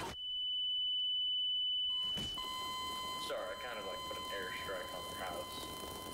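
Electronic beeping inside a video game, a sustained high tone at first, then a fainter steady beep continuing under the player's voice.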